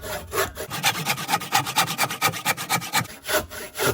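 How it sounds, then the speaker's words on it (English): A Work Zone fine cut hand saw cuts through wood in a steady series of close, loud back-and-forth strokes, rasping evenly for about four seconds. "So that's the Work Zone fine cut saw."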